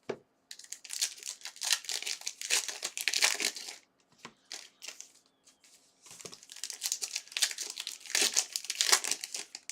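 Topps Heritage trading card packs with glued seams being torn and crinkled open by hand, bursts of crackling wrapper and paper rustle in two close, busy stretches separated by a short quieter pause.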